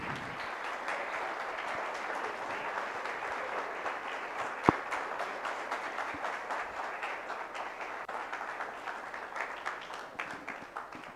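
A crowd applauds continuously for prize winners at a project competition ceremony. The steady, dense clapping lasts several seconds, with one sharp louder clap near the middle, and it gradually thins toward the end.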